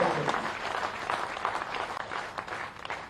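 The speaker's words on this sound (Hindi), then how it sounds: "एक बार फिर से तालियां बजा के अभिनंदन कीजिए" Applause from a crowd at a Madhya Pradesh BJP political event, a fairly faint, continuous patter of many hands clapping at some distance.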